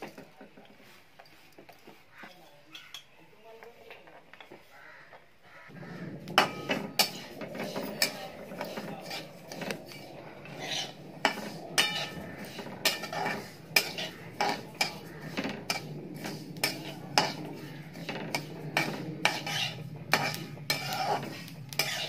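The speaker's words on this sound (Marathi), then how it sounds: "आता आपण हे सगळं भाजून घेणार आहे।" Jaggery, sesame, ground peanuts and gram flour being roasted in a pan, heard as a long run of rapid scraping and clinking from a spoon or spatula against metal after a few quiet seconds, close and continuous.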